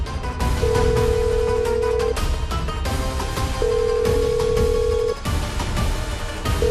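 A telephone rings on an unanswered call, long steady ring tones repeating with pauses between them, loud over a dense dramatic music bed.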